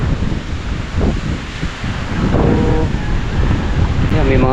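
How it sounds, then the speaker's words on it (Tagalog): Ocean waves wash in steadily along a Cebu coastline, a broad rushing surf mixed with wind buffeting the microphone, loud and continuous, with a few faint voices and a brief tonal sound near the end. "Yun na nga ang alon."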